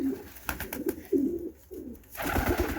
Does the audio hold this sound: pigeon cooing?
yes